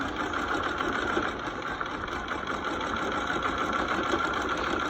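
A sewing machine runs a continuous zigzag stitch along the edge of woven fabric while hemming, a steady mechanical whir and rattle with no breaks, close and moderately loud, without talk.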